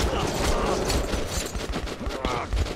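Gunshots in the video game Metro 2033 Redux, a busy flurry of shots and clattering impacts mixed with game sounds, with a voice talking over them.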